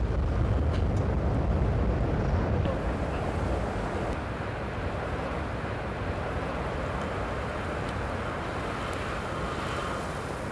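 A rocket's main engines roar at liftoff, a dense, continuous low rumble that is loud at first and then settles into a steady, powerful roar.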